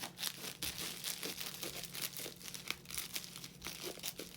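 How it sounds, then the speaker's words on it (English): Bubble wrap packaging is crinkled and squished by hand, giving steady close crackling and rustling with small sharp pops, heard alone without talk. "the bubble wrap inside gives it kind of a nice little squishy feeling, and you can hear it"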